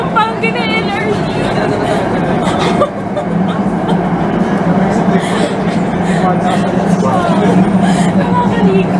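Onboard a Manila LRT light rail train near J. Ruiz station, a steady rumble of the moving carriage runs throughout, with a babble of passengers chattering nearby and no single voice standing out.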